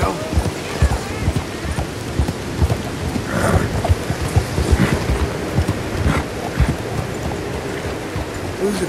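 Horse hooves clip-clop on a path in the Red Dead Redemption 2 game, an irregular series of close thuds over rain and ambient noise, with a voice speaking now and then.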